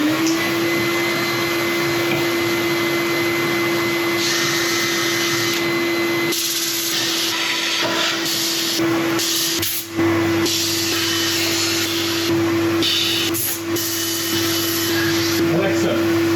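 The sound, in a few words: shop vacuum running, switched on by Alexa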